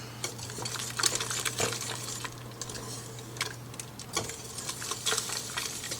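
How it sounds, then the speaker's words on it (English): Blackberry jam with Pomona's Universal Pectin is whisked vigorously in a pot on the stove: rapid, close metallic scraping and clinking in uneven bursts over a steady low hum. "I'm vigorously stirring."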